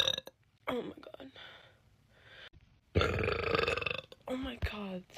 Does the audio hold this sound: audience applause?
no